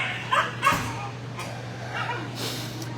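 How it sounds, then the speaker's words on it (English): Shelter dogs yip and bark in short bursts at a walkthrough, a couple of close sharp barks over a steady low hum, with a voice faintly in the background. "These dogs right here,"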